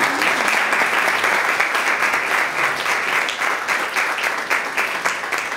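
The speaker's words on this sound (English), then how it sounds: "And I please give a round of applause for Wadia for making those delicious." Sustained applause from a crowd, dense steady clapping that carries on throughout without letting up.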